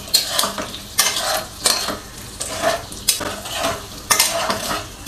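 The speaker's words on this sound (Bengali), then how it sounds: "আর আলু যেহেতু বয়েল করা, কাজে হচ্ছে ফ্রাই হতে বেশি সময় লাগবে না" Boiled potatoes with turmeric being tossed and fried in a pan, loud rhythmic bursts of scraping and sizzling roughly once per second, close up and without speech.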